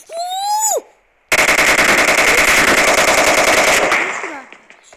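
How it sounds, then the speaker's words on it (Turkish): Gunfire in the mobile battle royale game PUBG Mobile, with a loud sustained burst of rapid automatic fire lasting several seconds, preceded by a short whistling, falling tone and a brief gap. "Sıkıyorlar bak. Adamlar nereden sıkıyor?"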